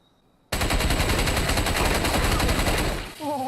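A gun fires one long, continuous burst of rapid shots, loud and close, starting abruptly after a quiet moment and lasting nearly three seconds before cutting off, with a brief voice right after.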